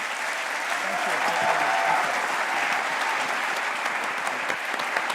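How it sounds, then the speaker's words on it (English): Sustained audience applause at a Tel Aviv University event honoring Jack Ma, a steady wash of many hands clapping from a large crowd, fairly loud and continuous throughout with no speech over it. "let's give him a round of applause"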